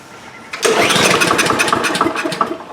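A DeWalt lawn mower engine is pulled to start with the choke closed, giving a sudden loud burst of rough, sputtering cranking that carries on for about two seconds and fades without catching, close by and with no talking.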